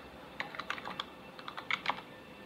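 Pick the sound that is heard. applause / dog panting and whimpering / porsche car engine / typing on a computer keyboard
typing on a computer keyboard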